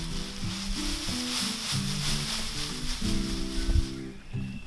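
Dry cover material such as leaves or sawdust is sprinkled over the top of a compost toilet bucket, making a continuous close rustling hiss with a low tonal hum running underneath.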